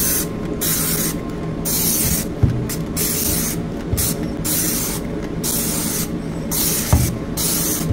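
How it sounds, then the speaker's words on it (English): Dawn Powerwash spray is pumped onto a Ninja Foodi drip tray in a series of short, hissy trigger squirts, close up and fairly loud, separated by brief pauses. "So give that a good spray."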